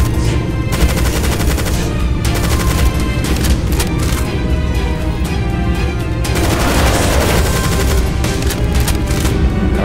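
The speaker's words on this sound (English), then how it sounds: "Those fire barrels must be destroyed." Dense, continuous gunfire and booming blasts from the DOOM 2 Project Brutality mod as fire barrels are shot and blown up on Master Levels MAP10 Black Tower, loud and relentless throughout with rapid shots layered over heavy explosions.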